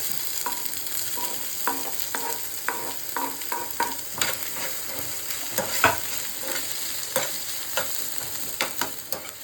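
Onions sizzling and frying in a pan while being stirred, a steady hiss broken by repeated scraping strokes of a spoon, close and alone without talk.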